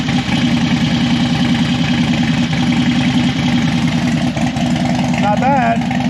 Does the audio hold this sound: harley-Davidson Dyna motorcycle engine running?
yes